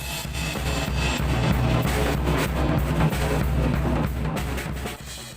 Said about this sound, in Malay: drum set,